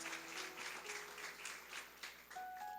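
Church congregation at a family service claps together in a steady wash of applause, moderately loud, with faint tonal sounds near the end.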